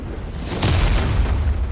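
A grenade explosion in the video game Bleach: Rebirth of Souls, a short, heavy boom over a constant loud rumbling background.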